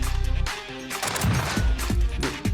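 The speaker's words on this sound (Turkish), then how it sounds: "Bir sürü mermi boşalıyor abi" Gunfire in Call of Duty: Modern Warfare: a rapid automatic burst opens, then several separate sharp shots follow at uneven intervals, loud and close.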